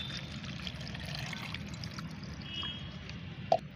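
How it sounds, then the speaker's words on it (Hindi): Water is poured into a spoonful of wood ash mixed as a homemade plant fertilizer, a soft steady trickle close by, ending with a small clink. "इसके बाद हमें इसमें पानी डाल के"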